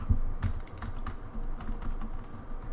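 Keys pressed on a computer keyboard, an irregular series of close, crisp taps and clacks spread across a few seconds over a low background hum.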